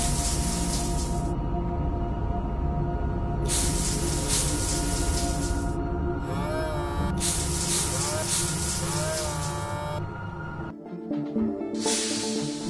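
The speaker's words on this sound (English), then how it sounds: "it can pinpoint and spray off any soil that remains on the machine" A cleaning robot sprays jets at soiled food-processing machinery, with loud broadband hissing bursts that start and stop in several separate blasts over a steady mechanical hum.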